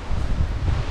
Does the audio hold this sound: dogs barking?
no